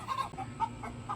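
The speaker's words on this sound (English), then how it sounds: "you'll probably hear some roosters in the background" Soft clucking from backyard chickens and roosters, a few quick calls spaced apart over a low background hum, fairly distant and faint.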